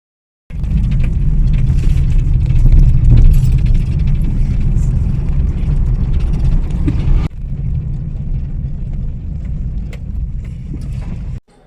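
Steady low rumble of road and engine noise inside a car on the move, loud and continuous for about eleven seconds, easing slightly partway through, with no talking over it.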